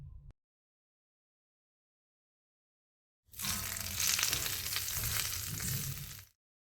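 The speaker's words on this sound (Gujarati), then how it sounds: "હવે વઘારને રાયતામાં ઉમેરી દઈએ।" Hot oil tempered with mustard seeds, cumin, Kashmiri chili and curry leaves is poured into cucumber yogurt raita. After a long silence, a loud, sharp sizzle erupts, holds for about three seconds, then stops abruptly.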